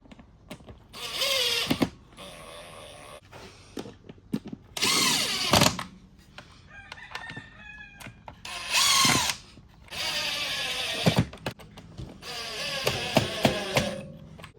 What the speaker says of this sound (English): I ran all these bolts in with the drill before